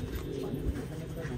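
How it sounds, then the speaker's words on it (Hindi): Pigeons cooing on a rooftop, low soft throaty coos murmuring continuously close by, with a faint steady hiss and distant activity behind them. "ये देखिए दोस्तों प्यारे प्यारे कबूतर"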